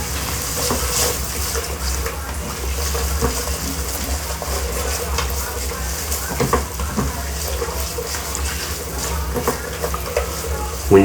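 Onions sweat with a pinch of salt in a pan for vegetable spaghetti, giving a continuous close sizzle with scattered crackles and occasional stirring scrapes, a sharp knock at the very end.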